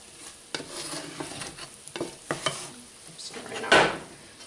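Chorizo sizzles and crackles in a pan while being stirred, with scraping strokes from a utensil and a brief loud burst of sizzle near the end, close and without talk.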